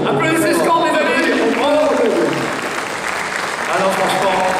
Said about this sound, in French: Applaudissez Scand, mes amis